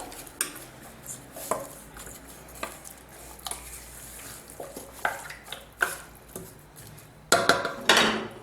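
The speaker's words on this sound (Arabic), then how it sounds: "توابل، نحرك هاد التوابل شويه." Spices stirred in a metal cooking pot for a Moroccan chicken dish, a close series of irregular scrapes and clinks, spaced unevenly before a louder clatter near the end, with no voices.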